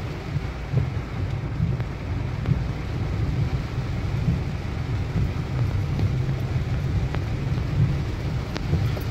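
Steady rain in wet weather, a continuous broadband hiss at even loudness with a low rumble underneath that may be distant thunder or traffic, with no speech.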